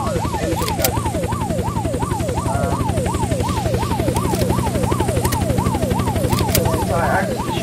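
A helicopter in the video game Unturned during a police roleplay, a loud continuous rotor chop thudding rhythmically throughout, with a wailing, rising-and-falling siren layered over it.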